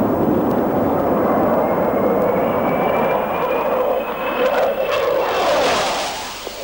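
An RAAF F/A-18 Hornet fighter jet roars steadily, a loud broadband engine rumble with a faint rising whine, continuous for several seconds with no voices.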